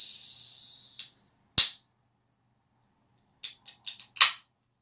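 A 0.33 Coca-Cola Classic can opening with one sharp crack of the tab, then a few quick fizzing hisses and clicks, close and clear with no talk.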